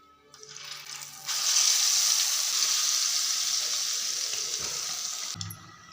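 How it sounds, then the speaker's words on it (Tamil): Masala-coated egg halves sizzle and fry in hot oil, a steady bright crackle that swells loudly after a short quieter start and holds close up, with no talking. "இப்போ மசாலா கலந்து முட்டையை நம்ம இதில் சேர்த்துக்கலாம்."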